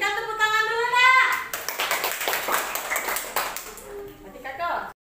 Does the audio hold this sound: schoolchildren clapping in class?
yes